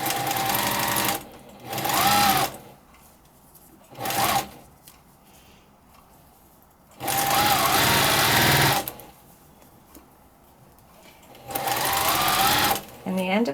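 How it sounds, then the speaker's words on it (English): A sewing machine runs in steady bursts, sewing a small stitch close to the edge across the opening of a flannel baby blanket, with near, loud whirring spells separated by pauses filled with talk. "as close as I can to the edge with a small stitch, I'm going to stitch all the way across that opening"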